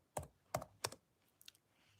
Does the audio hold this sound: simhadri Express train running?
no